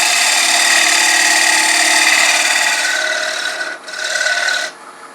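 Soft wood end grain being cut by a turning tool on a lathe while shaping a jewelry box: a steady, loud rasping scrape that runs continuously, dips briefly, then returns before stopping.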